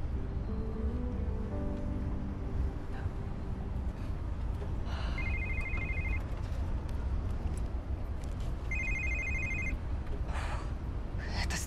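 A telephone rings in two separate bursts of repeated electronic trills over a constant outdoor background hum.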